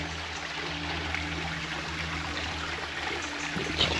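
Steady trickling stream water in a dark, green, mossy forest with huge trees and ferns, a continuous soft babble heard close and alone with no voices.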